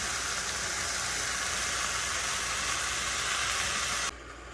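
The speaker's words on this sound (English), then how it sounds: "I'm going to saute up some onions, peppers, and some cilantro" Onions, peppers and cilantro sautéing in butter in a pan for breakfast, giving a steady, loud broadband sizzle with no talk, which cuts off sharply near the end to a quieter hiss.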